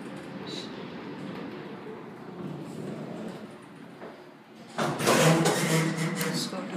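A Kone traction glass elevator's motor in a downtown Hudson's Bay shopping centre gives a steady, moderate mechanical hum that swells abruptly into a louder, brighter whirring rush near the end.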